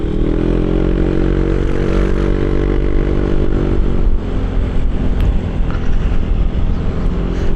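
A modified Yamaha Aerox scooter engine drones loudly up close, a strong harmonic hum that holds steady, then drops off about halfway into rougher, lower idling with no talk.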